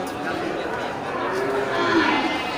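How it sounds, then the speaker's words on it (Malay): Bali cattle, males and females, crowd a livestock market hall, their lowing and shuffling forming a steady close mass of animal noise with a busy market murmur behind. "Kumpulan sapi Bali super di sal bagian timur."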